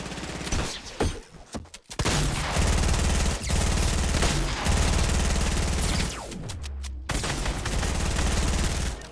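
Rapid bursts of Fortnite gunfire, heavy shotgun blasts among them, fill the game's battle royale match loudly and almost continuously, with a brief lull and scattered sharp shots early on.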